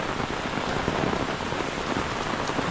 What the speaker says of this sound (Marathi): तर पाऊस बघा किती आहे.